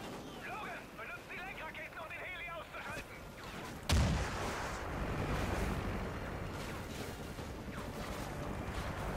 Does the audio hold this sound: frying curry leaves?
no